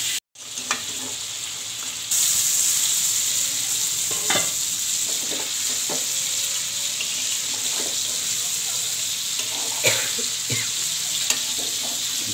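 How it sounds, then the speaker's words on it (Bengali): Eggplant cooks with spices in a pan for a vegetable curry alongside fried hilsa, giving a continuous hiss of sizzling with occasional clatters and scrapes of stirring and the lid being lifted. "ঢাকনা কয়েকবার উঠিয়ে ভালো করে কষানো হচ্ছে।"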